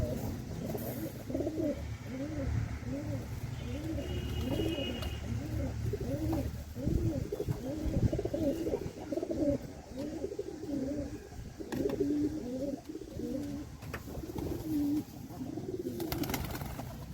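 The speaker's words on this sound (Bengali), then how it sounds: "এখানে কয়েকটা কবুতর আছে আমি সাইডে রাখি" Sick pigeons under treatment coo repeatedly in a steady, rolling rhythm close by, low and throaty, with occasional faint rustles and clicks in the background.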